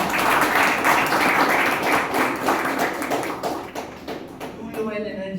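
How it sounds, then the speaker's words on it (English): Group applause from a Toastmasters meeting audience, dense steady clapping that fills the room and tapers slightly toward the end, with voices near the close. "First, give yourselves a round of applause."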